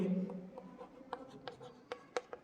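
Marker or chalk strokes on a board during a Class 10 physics lesson on concave mirrors, a run of short, sharp scratches with pauses between them, fairly close, over a faint low hum.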